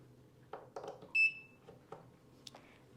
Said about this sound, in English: That's a loud beep.